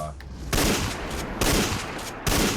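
Remington Model 870 pump shotgun firing in Fallout 4, three loud, sharp blasts spaced about a second apart, each with a short ringing tail over steady background game noise.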